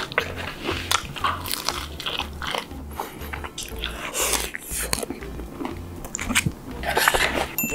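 Close-up crunchy bites and chewing of black rosé tteokbokki topped with vegetable tempura, with repeated crisp crunches and wet chewing over a low background hum.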